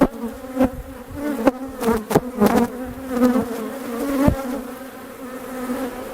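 Honeybees covering a hive frame during an inspection buzz in a continuous close drone, with louder passes as individual bees fly near, and no talking.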